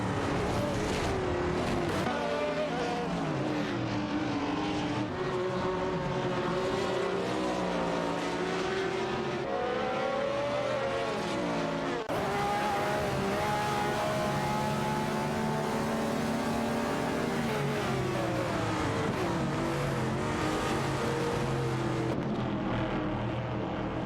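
Engines of AI-driven race cars in a video game, among them a BRE Pone 154 Chevrolet, drone and howl steadily as they battle on track, pitches sweeping up and down over a long continuous stretch with a brief break partway.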